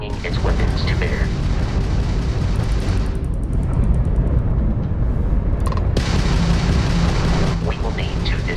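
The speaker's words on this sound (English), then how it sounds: "that's a Crimson Fleet ship bringing its weapons to bear" Crimson Fleet ship weapons fire during ship combat in the video game Starfield, a loud continuous roar of booming blasts heard under talking.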